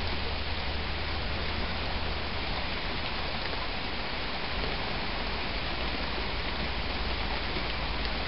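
Steady heavy rain pours outdoors beside a creek, a dense continuous hiss with no pauses or voices.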